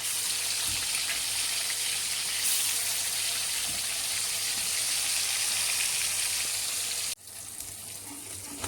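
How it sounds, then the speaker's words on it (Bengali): Fish coated in turmeric and salt fries in oil in a kadai with a dense, even hiss of sizzling. It drops abruptly to a quieter, thinner crackle near the end, with no voices. "মাছটাকে খুব ভালো করে টান টান করে ভেজে নিতে হয়"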